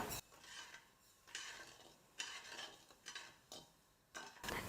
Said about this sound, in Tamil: இப்போ ஸ்டவ்வை பற்ற வச்சுக்கிட்டு நான் சர்க்கரையை நல்லா கரைச்சிக்கிறேன்.